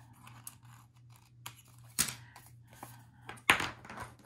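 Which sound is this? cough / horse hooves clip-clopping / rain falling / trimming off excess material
trimming off excess material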